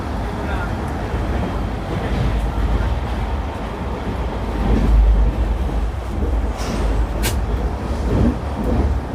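Passenger train on the Ludhiana to Ghazipur route, a steady low rumble of wheels and carriage with faint rattles and a few brief clanks, heard from inside the coach.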